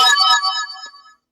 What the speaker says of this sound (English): that's a notification.